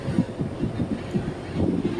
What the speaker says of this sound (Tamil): இதான் நீலகிரி ட்ரெயின்.